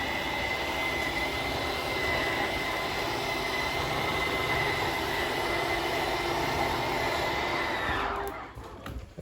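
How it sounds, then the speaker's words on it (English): Jayco 2019 33RBTS RV slide-out motors whine steadily and loudly at full extension, a continuous mechanical drone with a faint high tone that cuts off abruptly near the end. "once it's fully extended, you're just going to hear some whines from the motors"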